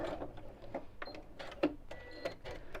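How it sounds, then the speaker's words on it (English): A sewing machine stitches straight down matched fabric pieces for a reversible fabric bowl, giving faint, short mechanical bursts of whirring separated by brief pauses. "So again, match those 2 up and sew straight down."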